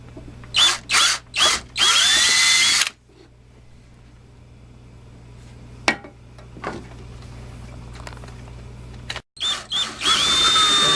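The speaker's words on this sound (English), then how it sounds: "And drill a hole straight down through the center of the cross." Power drill boring a hole straight down through the center of a cross in a plug for a homemade cane, in several short bursts then a long sustained run, loud and close, with quieter workshop noise between runs.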